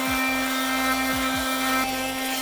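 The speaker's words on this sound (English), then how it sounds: "I'm just going to give it a quick sanding over and then we're ready to start priming it." A power sander works over epoxy filler during rust repair on a kei track car's body, giving a steady, close, continuous mechanical hum with a fixed pitch throughout.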